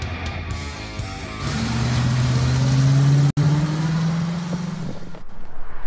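A 2012 Hyundai Elantra's engine runs steadily, then revs up with a rising drone that holds loud for a few seconds before settling, with no talk over it.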